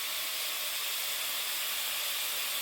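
Garlic and cumin sautéing for chili give a steady, even hiss of sizzling oil, close and continuous without any other sound.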